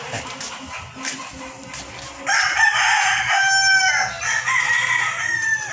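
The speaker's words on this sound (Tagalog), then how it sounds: "Yan naman ito yung mga manok." Chickens cluck nearby, then a rooster lets out a loud, drawn-out crow, with more crowing and clucking following.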